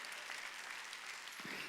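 Congregation applauding during a Korean church worship service, a steady wash of clapping hands filling the room, fairly distant and low in level, with a faint murmur of voices underneath.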